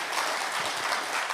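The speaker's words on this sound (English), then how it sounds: "a massive round of applause once again for Alex and Noam" Audience applause for the organizers at a conference, a steady, dense wash of clapping heard close and fairly loud with no voices over it.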